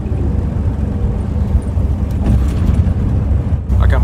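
Steady low engine rumble from inside a moving bus on a long road trip toward a gameday tailgate, a constant drone with road noise and a slight bump in level near the end.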